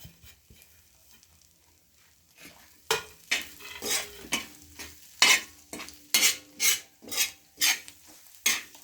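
Eggs frying in a spicy egg masala are stirred in a pan: quiet at first, then about ten loud, rhythmic scraping strokes with light sizzling and utensil clatter, close up with no talking.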